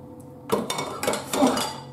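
Dishes clink and clatter close by in a few irregular bursts, as if being handled and stacked.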